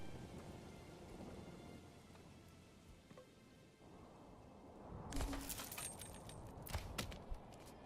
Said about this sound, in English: It just keeps raining for some reason.